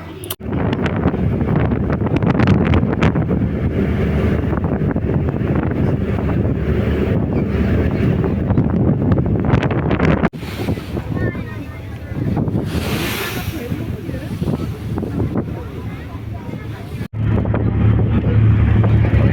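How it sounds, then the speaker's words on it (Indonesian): Strong wind buffets the microphone at an outdoor sunset viewpoint on a trip from Mojokerto to Bima, a loud, continuous roar with gusts and brief drops, while people talk underneath. "cuma anginnya kenceng banget"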